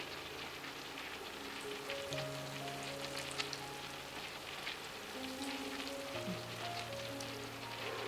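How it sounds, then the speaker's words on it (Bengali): Jackfruit seed cutlets deep-fry in oil with a steady, dense crackling hiss, like light rain, running evenly throughout alongside faint sustained tones in the background. "একটু ডুবো তেলে ভাজতে হবে, তাই তো? বাকি দুটোও দিয়ে দিই।"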